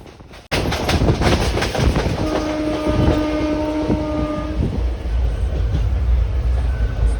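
A local train runs on the Virar to Gholvad line into Vaitarna station at dusk, a loud close rumble and rhythmic wheel clatter with sustained horn-like tones midway, easing into a lower roll.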